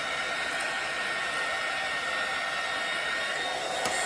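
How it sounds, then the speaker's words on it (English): A heat gun shrinks plastic wrap around a bath-and-body gift basket, giving a steady, loud, unbroken blowing roar that holds for several seconds with no talking. "here's me vacuum sealing or heat sealing my gift basket"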